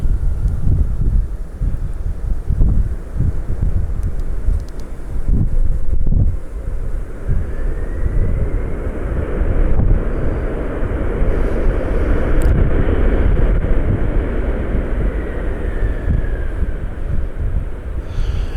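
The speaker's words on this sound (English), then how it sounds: "Western Global Flight 332 inbound from Fairfield. MD-11." A Western Global MD-11 jet airliner passes inbound, its faint rising and falling whine partly buried under heavy wind buffeting the microphone.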